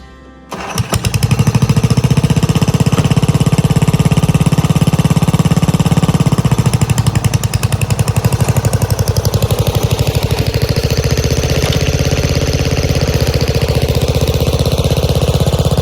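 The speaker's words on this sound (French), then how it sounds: "là l'objectif c'est que je vais avancer un peu le tracteur, le réaligner" A tractor engine starts up and runs as the tractor is moved forward in hot weather: loud, close, rapidly pulsing diesel chug that stays steady, easing slightly in tone after several seconds.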